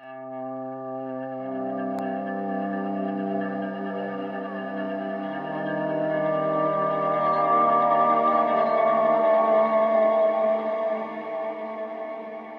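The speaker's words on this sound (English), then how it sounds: "So this is a really cool dreamy slide guitar patch." Dreamy slide guitar synth patch from an NNXT sampler run through a chain of effects, sustained gliding tones with echo, chorus and distortion, swelling gradually louder and fading slightly at the end.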